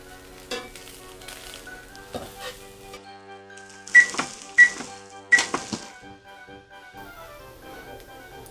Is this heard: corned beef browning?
yes